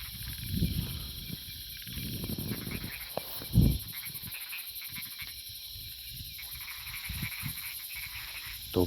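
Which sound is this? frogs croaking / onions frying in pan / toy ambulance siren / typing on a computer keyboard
frogs croaking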